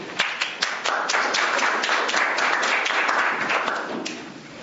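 An audience in a lecture room bursts into steady applause, with close, crisp individual claps over a dense wash of clapping that holds level and then thins slightly at the end.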